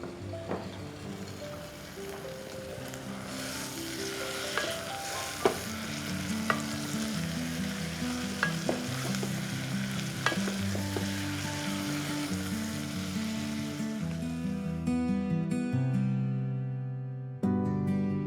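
Chicken pieces fry with onions in a pan, making a continuous close sizzle with occasional sharp spatula scrapes and clinks over a long stretch, with no talking.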